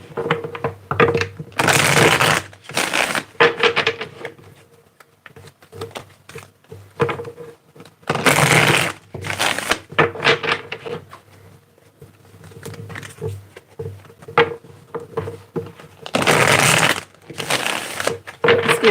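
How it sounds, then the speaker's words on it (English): Bursts of riffling, papery shuffling of tarot cards repeat in several clusters with quieter handling and soft taps between them, close and fairly loud. "Let's get one more shuffle here."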